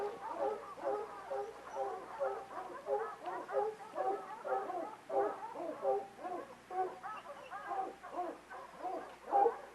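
A hunting dog on a bear hunt barks and whimpers in rapid, repeated yelps at moderate distance, a steady run of excited cries without talk.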